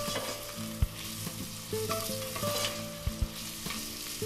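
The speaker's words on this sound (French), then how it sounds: "Je mélange." Onions and garlic frying in a pan for a vegetarian pasta sauce, stirred with a utensil: steady close sizzling with scattered clicks and scrapes against the pan, no voices.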